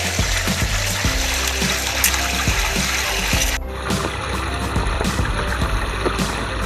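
Irrigation water rushes steadily out of pipes onto a castor field, a continuous, fairly loud splashing flow with a low mechanical hum underneath.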